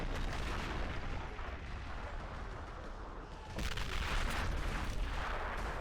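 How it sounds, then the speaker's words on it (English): A continuous, dense rumble of distant artillery explosions and gunfire in a Warhammer 40k video game mod rolls on without pause, swelling louder toward the end, with no talking. "from the artillery in the background"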